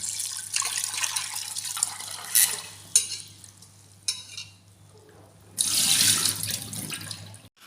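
Tap water runs into a kitchen sink as shrimp are rinsed by hand, flowing in uneven bursts with splashes and brief lulls, close by.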